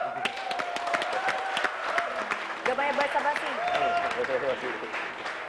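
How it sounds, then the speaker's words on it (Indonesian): Studio audience on an Indonesian TV variety show claps in a loose burst while a host speaks over it, the applause thinning out as talking and laughter take over. "Baiklah, tepuk tangan sekali lagi"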